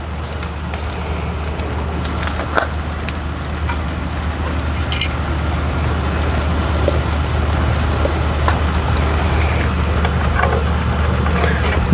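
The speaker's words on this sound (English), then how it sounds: "It's raining. We got the canopy set up here." Rain pours down on an outdoor canopy over a Nissan Xterra being repaired, a dense, constant hiss with scattered louder drops over a low steady hum.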